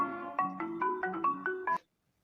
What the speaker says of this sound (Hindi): अरे फिर से फोन